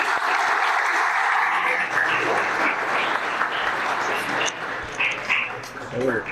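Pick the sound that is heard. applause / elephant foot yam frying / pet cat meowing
applause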